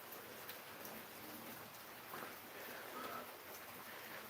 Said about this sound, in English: it's fucking pouring right now